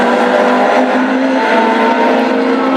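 Classic hot rod race cars lapping the track in a Spring Classic final at Hednesford, a loud continuous engine roar with whining revs throughout, close and unbroken.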